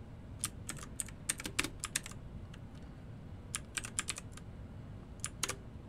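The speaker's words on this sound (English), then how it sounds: "Keyboard sound intensifies." Quick clusters of computer keyboard keystrokes, clicking in irregular bursts with short pauses, close and fairly quiet.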